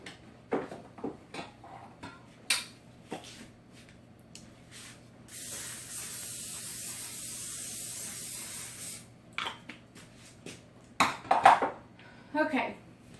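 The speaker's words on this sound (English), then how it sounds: "And let me spray my pan." A sustained hissing spray of cooking oil onto a pan, lasting a few seconds, surrounded by clinks of dishes and utensils and a voice talking.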